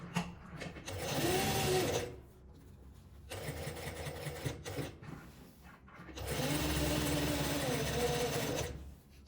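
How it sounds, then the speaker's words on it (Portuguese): Sewing machine stitching fabric scraps into a flower patchwork rug with a presser-foot seam margin, running in three steady buzzing bursts separated by short pauses, close and clear with no talk. "Agora eu vou começar a costurar com a margem de um calcador"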